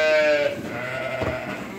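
Lambs bleating as feed is poured out for them, a close, loud bleat at the start followed by quieter, scattered animal calls.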